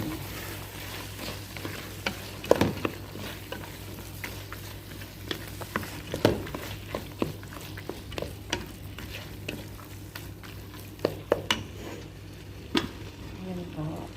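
A spoon stirs tomato and chana dal in a frying pan over a steady, soft sizzle, with sharp scraping clacks at irregular moments against the pan and no voice.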